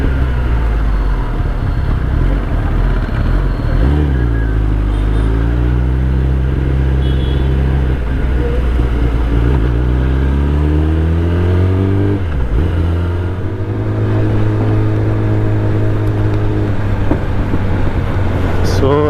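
A Kawasaki ZX-10R motorcycle rides through Nagercoil town, its close, loud engine droning steadily with rising and falling revs and a few gear changes, mixed with wind noise.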